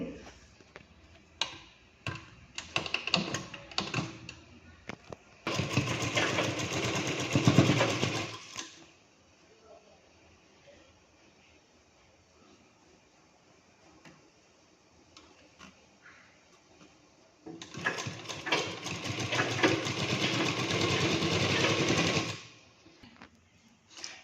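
Sewing machine stitching a blouse, with two long runs of fast steady mechanical whirring separated by quieter ticking and fabric handling, the machine sounding close and moderately loud.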